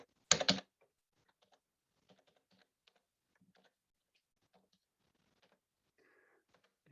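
A password is entered on a computer keyboard: one louder key clack at the start, then sparse, faint keystrokes tapping quietly in an otherwise silent room.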